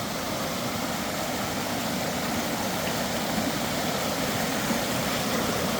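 Waterfall in Berehy roars as a steady, dense broadband rush of falling water, even and unbroken, with no voices.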